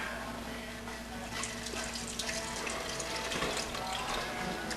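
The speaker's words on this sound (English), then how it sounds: "So we'll add another cup of water." Water from a cup poured into a pot of thick New England clam chowder, a steady close-up splashing and trickling stream lasting several seconds with no talking.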